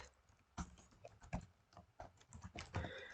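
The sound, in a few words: typing on a computer keyboard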